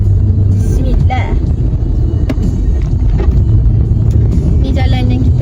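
A car drives along a road, with a steady loud low engine and road rumble filling the cabin, occasional clicks and a brief rattle, while people talk inside.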